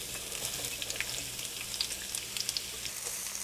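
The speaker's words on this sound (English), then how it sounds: "And now I'm going to add the onion." Onion hitting hot oil in a pan for Portuguese cod and potatoes (bacalhau a Gomes de Sá) gives a steady, soft, close sizzle with scattered light crackles throughout and no talk.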